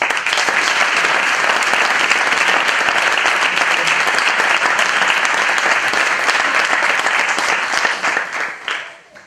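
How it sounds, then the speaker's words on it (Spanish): Sustained loud applause from a large crowd at a tribute to the Guardia Civil, thick and even, fading out at the very end. "Por eso desde aquí pido un aplauso por todos los que han dado la vida por la lucha"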